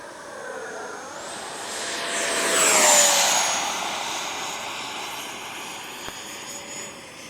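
An E-flite 80mm F-16 RC ducted-fan jet flies past at full power, its whine rising as it nears overhead and then fading as it pulls away.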